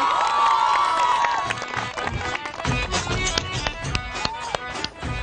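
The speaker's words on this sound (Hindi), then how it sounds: "तालियां।" Loud studio audience applause and cheering fill a morning television show, dense clapping with shouts that thin out into scattered claps.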